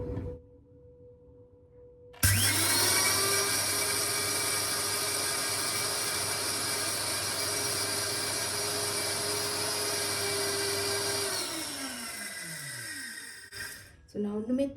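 A Vevor mini milling machine starts up with a loud, steady motor whine and hum that holds for about nine seconds, then winds down and stops by itself; no talking over it.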